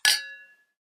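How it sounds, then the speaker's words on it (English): A single bright glass clink against a tooth during a toast, sharp and close, ringing briefly before fading within about half a second. "I hope you can hear the glass clink my tooth."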